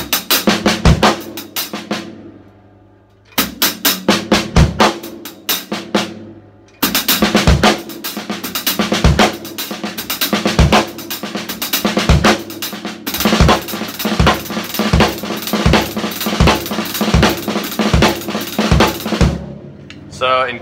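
A drummer plays fast hi-hat licks on a drum kit, with crisp rapid bursts of open and closed strokes and accented hits, grouped into repeated phrases separated by brief pauses.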